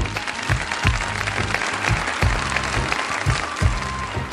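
Audience applause at an Independence Day of Pakistan event, loud continuous clapping with rhythmic low thumps pulsing underneath throughout.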